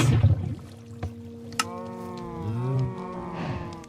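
Cows mooing in the Minecraft video game, a couple of drawn-out low moos that swell and fade over a soft game background, with no talking.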